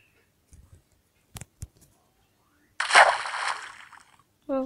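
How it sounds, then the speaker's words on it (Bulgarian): In a blocky video game, a character plunges into water, making a loud, noisy splash that swells and fades over about a second and a half, after a few scattered clicks and before a brief tonal chime. "Във вода сме."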